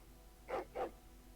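A dog in the Dragon Age: Origins video game gives two quick, fairly faint barks over a quiet background.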